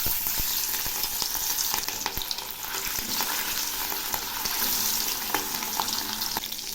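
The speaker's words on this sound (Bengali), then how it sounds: "তেল গরম হয়েছে, এখন আমি মাছগুলো ছেড়ে দিচ্ছি।" Fish pieces frying in hot mustard oil in a kadai, a dense, steady close sizzle and crackle with occasional sharp pops and spatters, continuous without speech.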